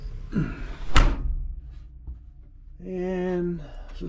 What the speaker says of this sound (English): Okay, let me get my door shut.